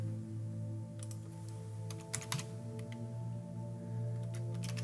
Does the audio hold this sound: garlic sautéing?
no